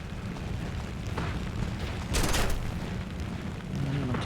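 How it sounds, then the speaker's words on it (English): A bomb dropped from a Japanese fighter-bomber in the combat flight game War Thunder bursts in a muffled distant blast amid steady engine roar, with a brief crackling swell in the middle. "Bombs away."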